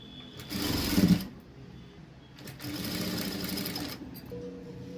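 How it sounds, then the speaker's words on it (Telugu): Sewing machine running in two sustained bursts while stitching thin piping around a blouse neckline, with a short pause between runs; close and steady, no talk. "ఇలా పెట్టేసుకొని నెక్ మొత్తానికి కుట్టు అనేది వేసుకోవాలి"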